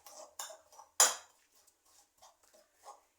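A spoon scrapes and clinks against a bowl while mashing fresh yeast with sugar, in a few short bursts, with one sharper clack in the middle and quiet pauses between.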